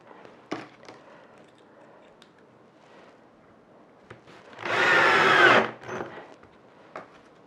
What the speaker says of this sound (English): And now I can finish screwing my support crosspiece on. And I just screw all the screws all the way back.